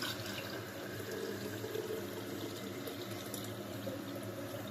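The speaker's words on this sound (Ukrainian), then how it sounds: "Включаємо водичку, просто набираємо баночку." Tap water pours steadily into a jar, a continuous splashing rush of liquid heard close up and alone.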